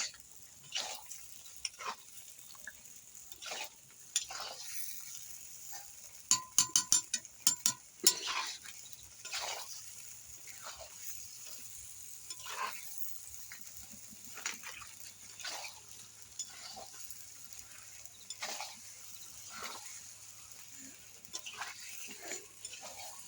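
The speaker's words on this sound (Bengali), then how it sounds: "আস্তে আস্তে আলু দিচ্ছি কোষাচ্ছি" Potatoes being added to a pan and stir-fried for cauliflower and potato dum, heard as faint, intermittent scraping strokes with a quick rattling clatter partway through, fairly quiet throughout.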